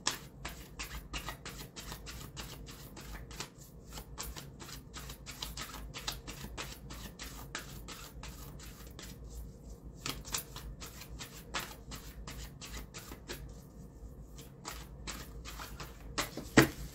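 Tarot cards from an Affirmators Tarot deck being shuffled in a steady run of crisp, rapid riffles and flutters. They sound close and continuous, with a few short pauses and no voices.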